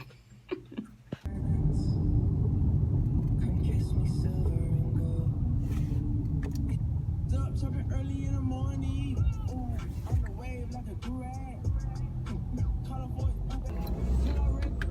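A car stuck in bumper-to-bumper traffic, its low engine and road rumble steady inside the cabin, with quiet talking and faint interior ticks and clicks over it.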